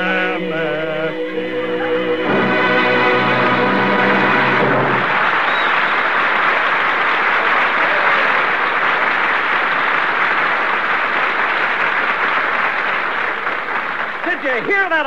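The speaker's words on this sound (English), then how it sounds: "Did you hear that applause, Jack?" Studio audience at a radio comedy show breaks into long, loud, roaring applause just after a short sung jingle, the dense clapping holding steady for roughly ten seconds before fading as a voice returns.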